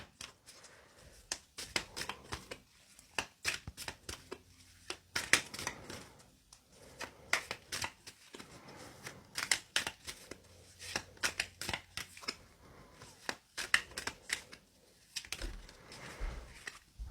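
Tarot cards are shuffled up close in repeated bursts of crisp riffling and flicking with short pauses between them. The clatter is papery and rhythmic, and nobody speaks.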